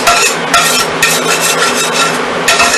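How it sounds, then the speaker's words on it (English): A flat spatula scrapes burnt residue out of a cooking pan used for chicken parmesan. The scraping is loud, close and rasping, coming in repeated strokes about every half second, with no talking. "Now I'm going to scrape my pan out because I got all this burnt stuff."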